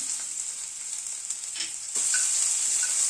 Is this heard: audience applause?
no